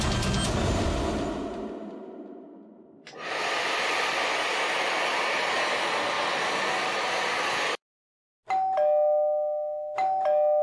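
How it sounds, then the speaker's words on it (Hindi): A doorbell rings with a sustained electronic tone near the end, cutting through steady hiss from an air conditioner and a hair dryer that stop just before it. "एसी और हेयर ड्रायर की आवाज के ऊपर भी बेल की आवाज साफ सुनाई दे रही है।"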